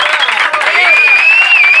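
Applause and cheering for a guest in a radio studio, a loud, dense burst of clapping with a high whistle-like tone running through it.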